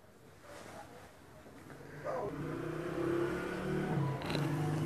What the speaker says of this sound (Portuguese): As motos tocam passando na rua.